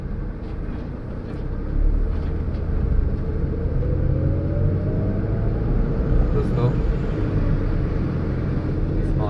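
Steady low engine and road rumble from inside a Renault car with a faulty sensor, rolling slowly along the road, with a voice talking over the drone.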